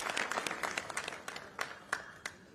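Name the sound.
audience applause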